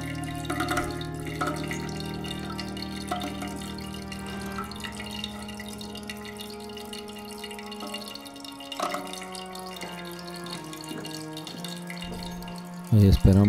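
Water trickles and drips steadily into a toilet tank as it refills after its valve is replaced, a continuous flow with a louder gurgling surge near the end, while someone speaks over it.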